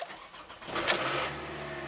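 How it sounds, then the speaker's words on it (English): A Toyota Camry engine cranks and catches, a brief burst of starter noise and rattle settling into a steady idle hum. "Okay, a little rattle there in startup."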